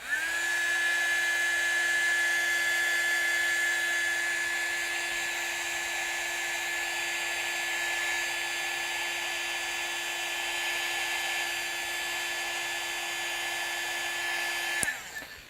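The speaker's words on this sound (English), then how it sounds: "I'm going to take my heat tool and dry this red real quick." A heat tool dries red acrylic paint on a canvas for a painting project: a loud, steady blowing whine with a constant pitch runs close and unbroken for about fifteen seconds, then clicks off at the end.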